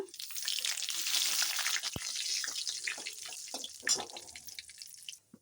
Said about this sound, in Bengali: ফোড়নে সব কিছু ভাজা হয়ে গেছে